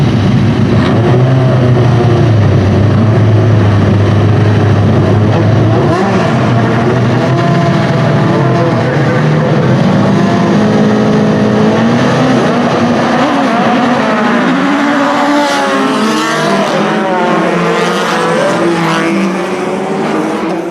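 Pack of racing cars at the Mondello Park race start in Ireland, a BOSS Race and Leinster Trophy event, roaring away together with rising engine notes that build and sweep past, loud and continuous with layered revving.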